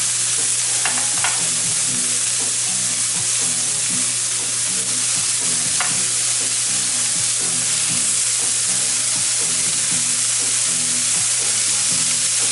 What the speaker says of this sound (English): So I can go ahead and start putting my meat on my griddle. Thin slices of that flank steak.